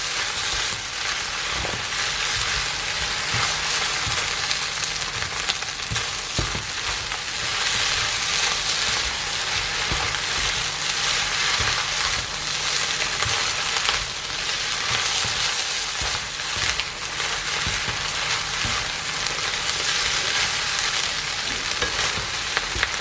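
Homemade fried rice sizzles steadily in a pan for the whole stretch while a utensil stirs and scrapes through it, making frequent small clacks over a constant loud hiss. No one talks.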